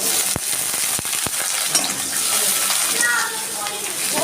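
Whole spices (dried red chilli, bay leaf, cinnamon, cardamom and cumin seeds) sizzle with onion in hot oil for a Bengali crab and potato curry, a steady crackling hiss with a few sharp pops near the start.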